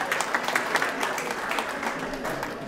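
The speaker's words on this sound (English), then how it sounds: "Give yourselves a big round of applause for joining in and singing." Attendees at a Slovenian association's 60th anniversary event in Geelong, Australia, clap for themselves after a singalong, a moderate, steady round of applause with a few louder claps standing out.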